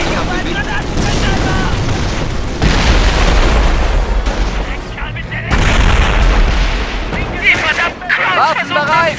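Explosive charges detonate in the World War II strategy game Company of Heroes, heavy booms and crackling blasts over dense, continuous battle noise and gunfire, with soldiers shouting orders throughout.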